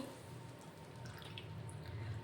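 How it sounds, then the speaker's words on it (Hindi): Water poured into vermicelli in a pan for semiya upma, a soft, steady liquid trickle and splash running through the whole stretch, fairly quiet and close, with no voices over it. "अब हम डाल देंगे सेवइयों में पानी।"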